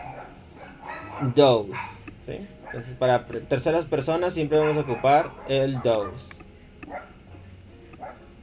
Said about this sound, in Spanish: Disculpen por el ruido de mis perritos